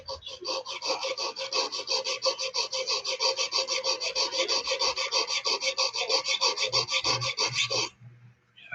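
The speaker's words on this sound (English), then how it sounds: "You may want to draw file that." A file is drawn along a straight razor blade from a Friedr Herder kit in rapid, even back-and-forth rasping strokes. The strokes are close and continuous, then stop abruptly near the end.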